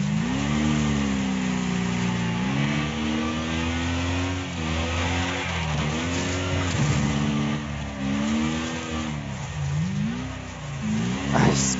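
A race car in the Wreckfest video game roars continuously at close range, its engine pitch climbing and dipping through repeated revs during a spin-out of an opponent, with a brief screech near the end.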